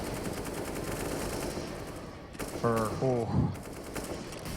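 Rapid gunfire rattles in a CS:GO professional match on the Cache map, two short bursts standing out over a steady low game hum, with no voices over it.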